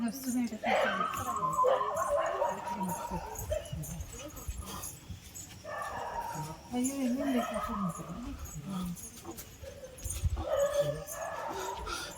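Dogs on the Arunachala hill circuit path in Tiruvannamalai give yips, whimpers and short barks in scattered bursts nearby, mixed with people talking.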